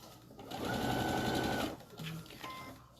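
Sewing machine stitching a quilted fabric mat raw edge to raw edge, one steady close run of about a second with a shorter burst after, faint background hum around it.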